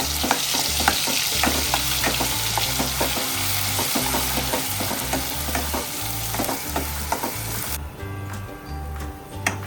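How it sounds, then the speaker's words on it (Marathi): Masala paste for mutton curry frying in hot oil with a bay leaf, a loud, close, continuous sizzle with repeated scraping strokes of a spoon stirring the pan; the sizzle drops away near the end. "आता आपण मटणच्या रश्यासाठी वाटण बनवले ते पहिले शिजून घेणार आहोत"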